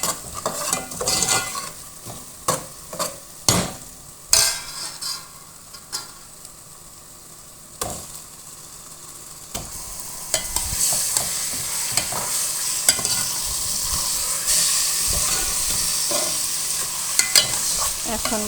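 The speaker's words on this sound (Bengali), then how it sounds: "মশলার সাথে একটু কষিয়ে ভাজা ভাজা করে নিব" Chicken pieces frying with spices in a pan, with loud rhythmic stirring and scraping at first, then a steadier rising sizzle as the cooking continues; no one speaks.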